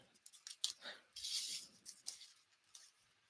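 Scissors snip through a handmade card base in a quiet crafting room, a quick run of soft crisp cuts with a louder rasp in the middle, heard alone with no talking.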